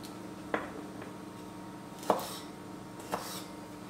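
Apricots cut into quarters for a salad, three soft chopping knocks on a board with a faint scrape, spaced apart and fairly close, no voices.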